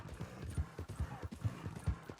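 A horse's hooves clip-clop at a steady walking rhythm in Red Dead Redemption 2, low, muffled and continuous, with no voices over it.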